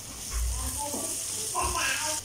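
Ripe tomatoes hit hot oil in a pan for kadai paneer, giving a short, steady sizzle with a few stirring scrapes, close and fairly loud, while a voice talks.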